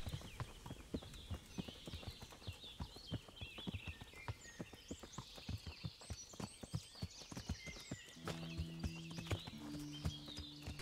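Horse hooves in the Kingdom Come: Deliverance video game clop in a quick, steady rhythm as a rider gallops away, fairly quiet, with high chirping in the background and a low tonal sound entering near the end.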